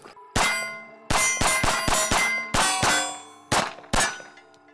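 A small pocket .380 pistol fires eight sharp, loud shots, in quick uneven bursts of two to four with brief pauses, each with a bright metallic crack and short ringing decay.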